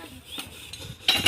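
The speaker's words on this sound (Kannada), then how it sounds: "ಅಮ್ಮ ಅಜ್ಜಿ ಇಬ್ಬರು ಮಾತಾಡಿಕೊಂಡು ಪಾತ್ರೆ ಉಜ್ಜಿ ಬಟ್ಟೆ ಒಗೆಯೋಕ್ಕೆ ಸ್ಟಾರ್ಟ್" Pots and utensils being scrubbed during washing in a Karnataka village, with short scraping and rubbing strokes and a brighter metallic clatter at the end, close and fairly loud.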